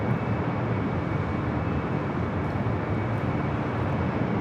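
A Swiss airliner on Flight 41 to Zurich takes off from the north side at LAX, its jet engines giving a steady, broad roar at moderate distance with no talk.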